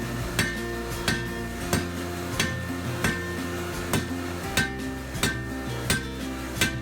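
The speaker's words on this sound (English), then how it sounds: "First step is going to be to forge a point on the end of the bar." A blacksmith's hammer drawing a point on the end of a flat 5160 steel bar, ringing in about ten sharp, evenly spaced strikes over a sustained background hum, close and clear with no talk.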